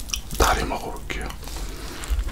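A fried chicken leg from BHC potato fried chicken gets bitten, with one sharp crunch followed by close, soft chewing and a few quieter bites.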